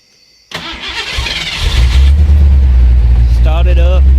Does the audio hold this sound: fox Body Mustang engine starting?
yes